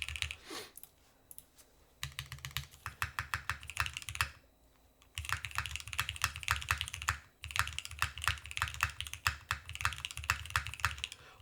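Rapid typing on a CW87 mechanical keyboard fitted with ePBT keycaps, close and clear, with dense bursts of clacky keystrokes broken by short pauses.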